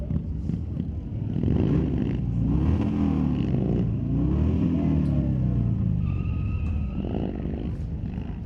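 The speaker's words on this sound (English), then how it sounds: "Let the kid put it on the rev limiter." A race car engine holds a loud, rough, wavering drone on the rev limiter at a drag strip event at Mission Raceway Park, with pulsing revs and crowd noise around it.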